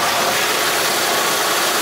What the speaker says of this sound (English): It's idling just a bit higher than it should possibly.